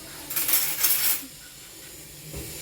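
Metal lid set onto a pot of pumpkin vegetable curry on a gas stove, a quick bright rattling clatter of metal for about a second, then quiet room hiss with a faint knock.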